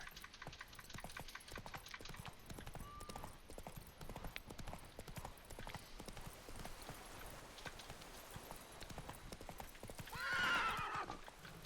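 Roach the horse galloping in The Witcher 3: Blood and Wine, a rapid steady clip-clop of hooves on ground, close and continuous, with a whinny near the end.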